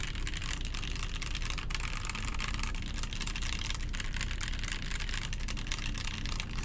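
Typing on a TMO50v2 mechanical keyboard fitted with Marshmallow switches, giving a dense, continuous stream of clacky keystrokes, close and steady throughout, with no voices.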